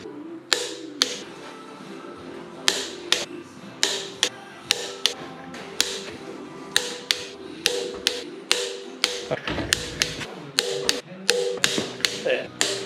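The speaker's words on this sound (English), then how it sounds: "Go around the last time, torquing this head to 102 Newton meters." Torque wrench tightening cylinder head bolts on a CAT 226B skid steer engine to 102 newton meters, giving a long series of sharp, close clicks in irregular bursts, each click from the wrench breaking over at set torque.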